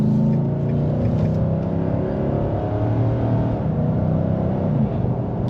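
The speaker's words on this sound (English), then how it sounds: "she's got some good acceleration, this truck" A 2023 Nissan Titan Platinum Reserve pickup truck accelerating, its engine a steady, loud low rumble with road and cabin noise that holds constant and does not fade.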